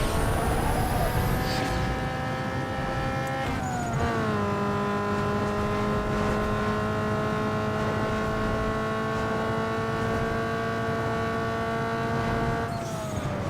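Race car engines in Need for Speed Underground 2 give a loud, sustained roar that holds steady at high revs, with a couple of brief pitch drops from gear shifts across the lap and no talking.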